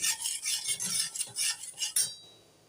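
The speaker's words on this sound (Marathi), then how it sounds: "आता हा रवा मी भाजून घेत आहे।" Semolina roasting in a kadhai, a spoon scraping and stirring in quick rhythmic strokes, about half a dozen passes before it stops.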